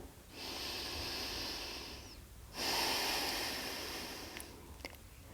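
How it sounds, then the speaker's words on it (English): Slow, deep yoga breaths sound close and clear: one long airy breath, a brief gap, then another steady, slightly louder breath trailing off, with small clicks near the end. "Take a deep breath here."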